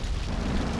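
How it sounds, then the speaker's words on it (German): A grenade explodes in the video game GTA 3, heard as a brief, dense, rumbling boom. "Ja, wir werfen eine Granate rein"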